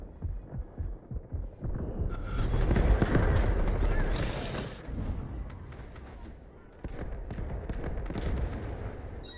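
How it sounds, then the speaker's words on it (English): Artillery barrage in the Delta Force video game: heavy booming impacts and rumbling explosions swell to a loud, dense roar, then ease into continued distant thuds and crackling, with game voices partly underneath. "Artillery barrage incoming."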